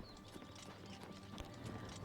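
Horses' hooves clip-clopping in the video game Oblivion Remastered, a quick irregular patter of many light hoof knocks from several horses at moderate distance, faint and steady with no talk.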